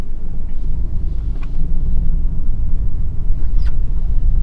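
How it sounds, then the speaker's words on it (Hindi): A car started by mistake in third gear instead of first, its engine giving a low, labouring rumble that drones on heavily with faint rattles above it. "सपोज गलती से थर्ड गियर में स्लॉट कर दिया इंस्टेड ऑफ फर्स्ट गियर, तो देखिए कैसा आवाज कर रहा था और गाड़ी बंद हो गया"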